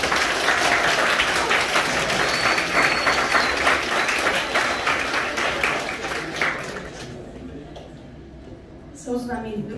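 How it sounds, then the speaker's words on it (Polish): Loud applause for parents at a high school midpoint celebration in Strzelin, rhythmic clapping that thins out after several seconds, followed by a voice speaking. "Poproszę o gromkie brawa dla Waszych rodziców."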